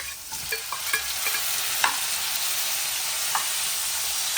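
Onions fry in a pan at home in India, a steady close sizzle and hiss broken by occasional light clinks and scrapes of a stirring spoon, with no voices.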